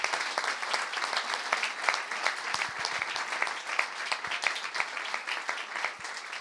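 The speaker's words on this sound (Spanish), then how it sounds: "un aplauso a las autoridades" An audience at a special-needs school event gives a round of applause for the visiting authorities, many hands clapping steadily with a few sharper close claps standing out from the crowd.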